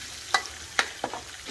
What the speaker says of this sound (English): she's taken all the pounded garlic, including the wrapper or paper around the garlic, and frying that in the same oil that the pork cooked in